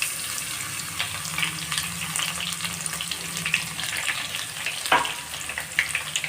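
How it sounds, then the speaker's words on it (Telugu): Coarsely crushed garlic fries in hot oil for a Telangana-style gongura pachadi, giving a steady close sizzle with light stirring and a brief clatter near the end, with no talking. "దీన్ని కొద్దిగా గోల్డ్ కలర్ అయ్యేంత వరకు వేయించుకుందాము ఎల్లిపాయని"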